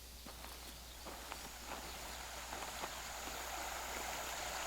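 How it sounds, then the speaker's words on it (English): A small stream runs beside a forest path, a steady faint wash of water under a string of soft footsteps crunching along at walking pace, with no one talking. "I hear water. I'm walking parallel to a small stream."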